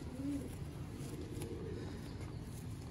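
A pigeon in a fancier's loft gives a brief low coo early on, followed by quieter murmuring calls over steady background noise.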